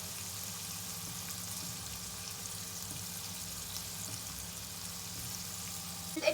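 White fish fillet with pepper and salt frying in a pan, a soft, steady sizzle that holds level throughout, with a small clink near the end.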